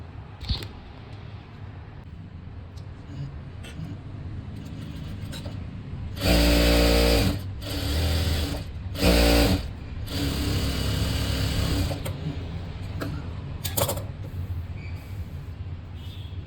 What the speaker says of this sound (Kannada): ಇಲ್ಲಿ ನಾನು ನಾರ್ಮಲ್ ಫುಟ್ಟಲ್ಲೇ ಸ್ಟಿಚ್ ಮಾಡ್ತಾ ಇರೋದು